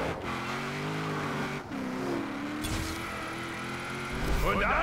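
A car's engine hums and shifts pitch while driving and drifting in Forza Horizon 4, with tire noise and a rise in revs near the end, moderately loud and steady.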